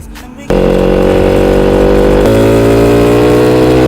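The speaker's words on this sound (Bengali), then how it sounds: "সুপার বাইক যেতেছে" A superbike roars past, its loud engine drone cutting in suddenly and holding steady and close, with a slight shift in pitch partway through.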